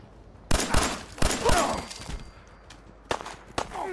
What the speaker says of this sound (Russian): по радостным выстрелам мы понимаем, что нас заметили